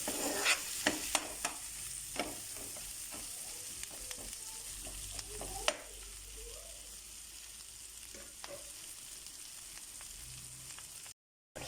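Onions frying in a pan until golden brown, for braised white samp and mutton, give a quiet, steady sizzle with scattered crackles and occasional sharper pops, heard close with no talk.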